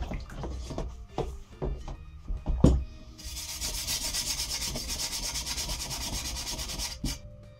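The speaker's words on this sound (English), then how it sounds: "Any stubborn bits, you can use a more abrasive brush." An abrasive brush scrubs paint off an Anglepoise 1227 lamp during stripping, first in a few scattered scraping strokes and then in a continuous, fast rhythmic scrubbing, close and fairly quiet.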